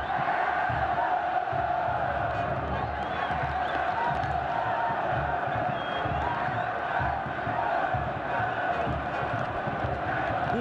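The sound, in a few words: football crowd chanting "é campeão"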